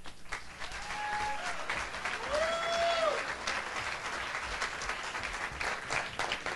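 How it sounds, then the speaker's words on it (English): Comedy club audience applauding an early-1990s stand-up set, a steady wash of clapping that runs the whole stretch at moderate volume with a faint voice briefly over it. "Round of applause again for my friend Grant Turner there."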